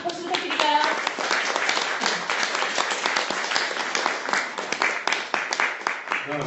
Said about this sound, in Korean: 박수 부탁드릴까요?